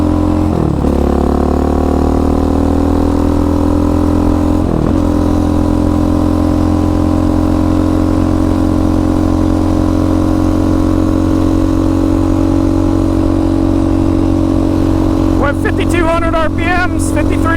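A Yamaha Raptor 700 ATV engine running on VP 110 race fuel holds a loud, steady, close idle-to-mid drone. Throttle blips come near the start and middle, and sharp revving pulses arrive at the end.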